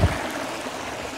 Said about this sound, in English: There's so much bubbles being made from all these little